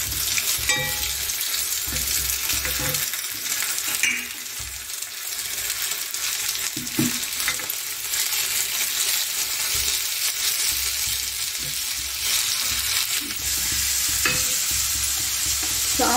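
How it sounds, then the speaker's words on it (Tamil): Sambar bubbles in a pot on the stove, giving a continuous close sizzling, bubbling hiss with occasional stirring clinks, steady and fairly loud with no talking. "சாம்பார் கொதிக்குதுங்க"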